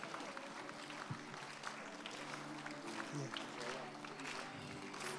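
Audience applause fills a church during a child dedication service, a dense, steady patter of many hands clapping that lasts throughout, with a voice speaking over it.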